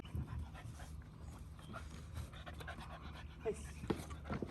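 Dog panting in quick, soft rhythmic breaths during a training session, fairly close but quiet, with a person speaking faintly in the background.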